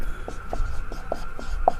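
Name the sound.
writing on a board during a maths lesson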